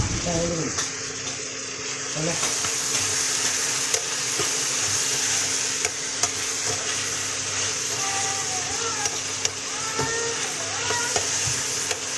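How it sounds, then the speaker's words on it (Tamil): Bitter gourd frying in oil in a home kitchen pan, a steady close sizzle running throughout, broken by occasional stirring scrapes and clinks, with faint background sounds underneath. "பாவக்காய் நல்லா எண்ணெயில் வதங்கணும்"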